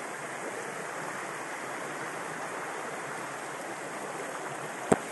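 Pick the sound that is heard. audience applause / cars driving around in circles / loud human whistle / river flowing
river flowing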